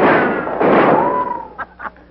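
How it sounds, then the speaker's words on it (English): A gunshot cracks loudly and close during a shootout, with a ringing decay, followed by two quicker, fainter pops. "Tell him to keep shooting, Abner."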